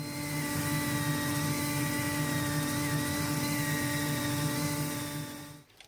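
A spinning wooden bowl is sanded on a woodturning lathe, producing a steady loud whirring hum with a rough abrasive hiss that holds evenly for several seconds before winding down at the end.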